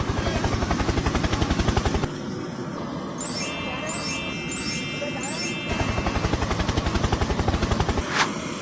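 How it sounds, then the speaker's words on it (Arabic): A helicopter's rotor gives a loud, rapid rhythmic chopping in two stretches. Between them is a section of rising electronic sweeping tones, and a sharp burst near the end. "هليكوبتر"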